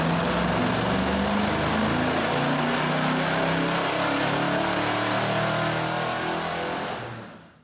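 Chevrolet C10 truck with new parts revving hard on a dyno, a loud sustained engine roar that holds at full power for several seconds, then cuts off and dies away.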